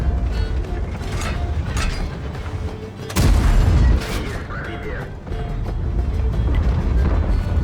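Explosive shell fired from an ST-II tank cannon in World of Tanks, a single heavy boom about three seconds in over a steady engine rumble and mechanical creaks.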